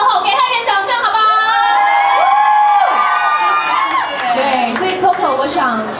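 An audience at a press event greets a pop singer with mixed cheering, whoops and scattered clapping, while a host's amplified voice talks over the crowd noise for the whole stretch.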